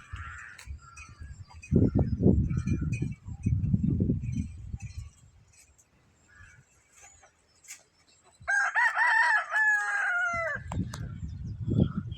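A rooster crows once, loud and clear, amid scattered clucks and bursts of low rustling noise.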